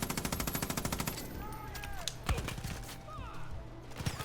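An M249 machine gun fires in Far Cry Arcade, a rapid, loud burst of close shots for about a second, then scattered impacts and softer game sounds.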